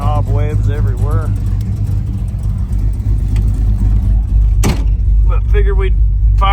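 A Chevy S10 drag car's engine rumbles loudly and steadily at close range, with voices talking over it and a sharp burst near the end.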